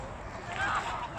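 A goose or duck honks briefly at Goose Beach in Strathclyde Park, a short call rising over steady outdoor background and nearby voices.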